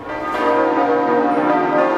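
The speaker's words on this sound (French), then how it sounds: "les 8 cloches font leur retour dans le beffroi nord. 2 mois avant l'ouverture, on les entend à nouveau" The eight large bells of Notre-Dame de Paris cathedral's north belfry peal together in a test ringing, their overlapping tones forming a loud, steady, reverberant ringing throughout.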